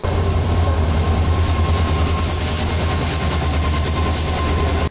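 A train at Udupi railway station rumbles loudly and continuously, close by, with a deep steady roar, rolling wheel noise and a faint high squeal throughout.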